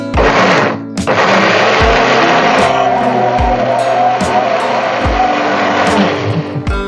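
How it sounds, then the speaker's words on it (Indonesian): An electric blender grinds garlic, shallots and ginger into a spice paste for beef liver rendang, a loud, steady motor whir running almost continuously, with brief pitch changes as the blades catch and a short pause near the start. "yang ini dulu yang kita akan blender ya, nanti yang lainnya menyusul"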